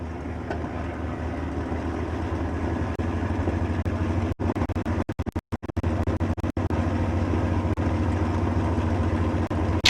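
A vintage aircraft engine idles while warming up during taxi, a steady low throbbing drone lasting about ten seconds, with brief crackling dropouts near the middle and no talk.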